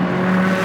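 Steady engine drone from an Audi R8 Le Mans-style race car out on track during a Blancpain Sprint Series practice session in Moscow, a close, loud sustained tone with no voice over it.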